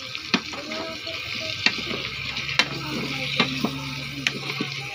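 Chicken fries and starts to burn in a pan, giving a soft, continuous sizzle broken by a few sharp pops and clicks at irregular intervals.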